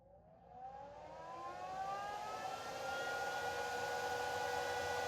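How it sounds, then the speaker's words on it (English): Forced air fan system in a 2025 Wildwood 165VIEW mini travel trailer spinning up, a steady whooshing airflow with a rising whine that climbs in pitch and settles into a loud, constant drone, no talking. "it actually has a forced air fan system. I'm going to kick it on."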